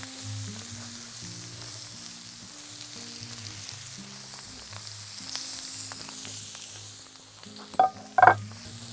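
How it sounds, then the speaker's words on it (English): Scallops fry in a pan with garlic, chilli and fatty chorizo, giving a constant close sizzle, then a couple of sharp metallic clinks from a utensil near the end. "What about that for a sizzle?"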